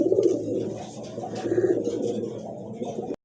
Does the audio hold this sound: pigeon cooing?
yes